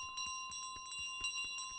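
A bell in Untitled Goose Game rings in quick, repeated metallic strikes with a sustained bright tone, moderately quiet and without talk.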